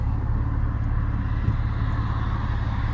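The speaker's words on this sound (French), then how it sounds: "Ouais, il y a de la circulation là." Road traffic rumbles steadily around a moving Porsche 911 Carrera type 996, heard from inside the car as a low, constant drone with a faint passing swell near the middle.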